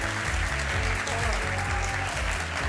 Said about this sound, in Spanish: Demos un fuerte aplauso a Tony Nadal.